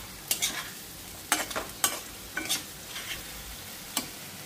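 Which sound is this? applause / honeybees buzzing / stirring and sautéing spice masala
stirring and sautéing spice masala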